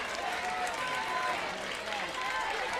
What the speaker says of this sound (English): the crowd starting to get excited